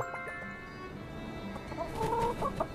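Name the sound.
chickens clucking in the video game My Time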